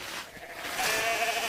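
Sheep bleat in a snowy field on a farm, a drawn-out wavering call that swells midway and holds, fairly near and moderately loud against a soft background with no talking.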